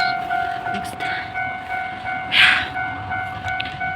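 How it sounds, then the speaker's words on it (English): A short one- or two-car Shiden tram runs by on a Japanese street with a steady mechanical rail hum and a few sharp clanks. A brief hiss-like burst sounds midway through, at moderate distance. "So this is what we call Shiden, or a very short train here."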